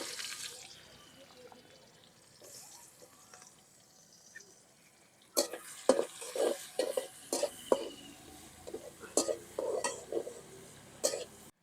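Chopped onions drop into hot oil in a pan after fish has been fried, starting a faint hiss, then a burst of close crackling and spattering pops that continue unevenly for several seconds.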